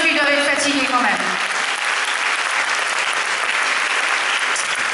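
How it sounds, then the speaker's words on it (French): Audience applause for a junior massed band in Grande-Synthe, France, a steady crowd clapping that fills the clip, with a voice speaking over its opening second. "On peut les applaudir parce qu'ils doivent être fatigués quand même."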